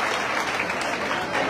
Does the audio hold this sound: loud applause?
yes